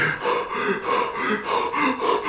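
A voice imitates heavy breathing: rhythmic, raspy gasps in and out, about five cycles, close and loud with no words.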